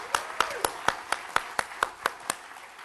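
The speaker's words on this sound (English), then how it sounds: "let's give Eric a huge round of applause" Audience applause from a live session at an ideas festival, heard as about ten evenly spaced, distinct claps roughly every quarter second, fairly close and sparse rather than a full roaring ovation.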